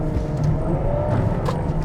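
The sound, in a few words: Ferrari 812 Superfast engine as gearbox punches into gear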